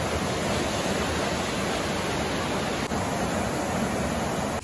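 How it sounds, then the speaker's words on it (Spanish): Mountain stream water rushing steadily along a hiking trail near Quito, Ecuador, a constant close broadband roar of flowing water with no voices over it. "Se puede escuchar el sonido del agua"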